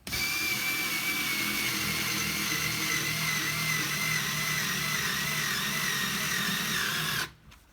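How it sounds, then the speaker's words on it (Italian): Parkside cordless 3.6V screwdriver fitted with an angle attachment driving a screw, a steady whirring motor whine that holds for about seven seconds and then cuts off abruptly, with no talk. "inserisco la punta e posso avvitare semplicemente così"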